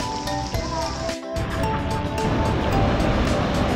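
High ocean surf rolls onto the beach at Candidasa, Bali, a continuous broadband roar that swells and breaks, loud and near, with no voices over it.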